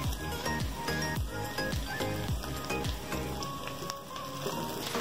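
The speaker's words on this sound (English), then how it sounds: "So now I'll add my pimento peppers" Halved pimento peppers dropped into a hot pan for curry peas and potatoes, a loud, dense sizzle with crackling spatter and rhythmic low thumps beneath, continuous and close.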